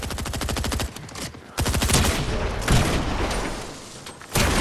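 Rapid Fortnite gunfire in bursts, a fast machine-gun rattle of evenly spaced shots followed by heavier scattered volleys and booms, loud and close with no talk.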